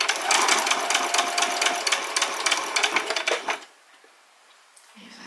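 A sewing machine runs rapidly along a dress seam, its close, fast mechanical stitching rattle continuous for over three seconds before it stops abruptly, leaving quiet with a faint low hum.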